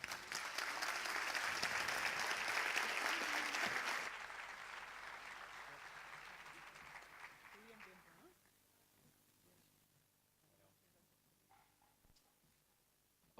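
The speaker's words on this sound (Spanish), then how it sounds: "Otro aplauso, por favor." Audience applause after a talk on education and hacktivism fills the room, loud and steady for about four seconds, then tapers to scattered claps and fades into quiet murmur.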